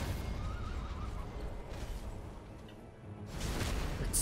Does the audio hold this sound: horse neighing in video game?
yes